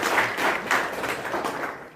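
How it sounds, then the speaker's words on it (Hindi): Crowd applause in an outdoor Independence Day speech setting, a broad steady wash of clapping lasting the whole two seconds, moderately loud with slight surges, no voices on top. "तालियां बजाई जोरदार"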